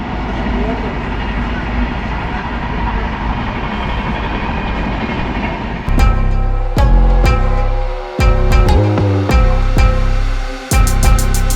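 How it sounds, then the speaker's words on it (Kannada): A train rumbles past on the Honnavar backwater, heard from a boat, under a steady wash of noise, then the rhythmic clack of wheels over rail joints grows loud and close. "ಅಲ್ಲೊಂದು ಟ್ರೈನ್ ಹೋಗ್ತಾ ಇದೆ ನೋಡಿ"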